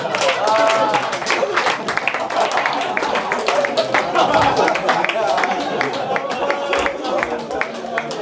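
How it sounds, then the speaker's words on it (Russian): Audience at a comedy show clapping in a room, a fairly loud mix of claps and crowd noise with voices talking over it throughout. "Азиз Бариев, ваши аплодисменты громкие."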